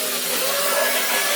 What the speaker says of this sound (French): Donc là ce qu'on va faire c'est qu'on va le mixer.